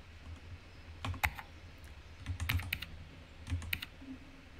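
Keyboard typing on a computer during a game, with small clustered bursts of key clicks spaced over several seconds against a soft background hum.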